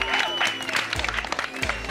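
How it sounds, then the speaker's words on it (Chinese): Studio audience on a television cooking show breaks into a burst of clapping, many hands patting quickly and fairly close, with voices talking over it throughout. "掌声鼓励"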